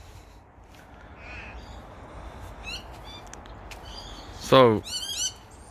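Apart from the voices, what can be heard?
crows and parrots calling in garden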